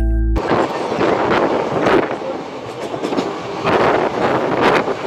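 Loud, close rumble of a train entering Bolpur Shantiniketan station, running over rails with rhythmic clacking and swelling bursts of wheel noise.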